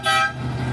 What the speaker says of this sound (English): It's got an air horn on it too.